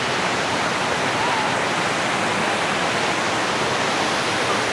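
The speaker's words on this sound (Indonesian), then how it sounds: "Airnya cukup besar ya dan deras ya." Rushing river water near Coban Sanus waterfall, a loud continuous broadband roar of fast, high-volume flow close by, steady throughout with no talk.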